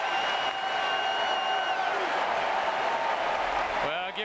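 Football crowd at Autzen Stadium in Oregon roaring loudly and steadily after being taunted by the visiting quarterback, a dense sustained wall of cheering with a broadcast commentator's voice faintly over it.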